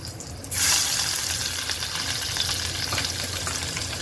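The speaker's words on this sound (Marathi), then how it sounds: "आता मी तेल टाकते याच्यामध्ये चिल्ली ग्रेव्ही करत आहे आता मी लसूण टाकते त्याच्यामध्ये" Garlic dropped into hot oil for a chilli soybean gravy, setting off a sudden, loud, steady sizzle that carries on alone without any talk.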